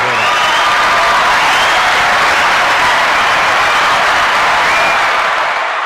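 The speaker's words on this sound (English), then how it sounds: "I got to give that whole thing a big round of applause" Steady, loud applause from a large crowd, a dense continuous wash of clapping that holds at full level for several seconds with faint cheers mixed in.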